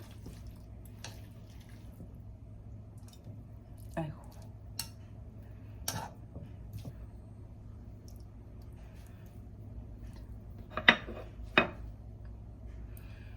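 Stir-fried young radish greens are plated onto a dish, with sparse, sharp clinks of utensil on plate scattered across a quiet room and a cluster of louder taps near the end.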